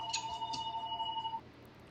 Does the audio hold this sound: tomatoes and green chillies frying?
no